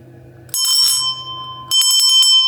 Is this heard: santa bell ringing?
yes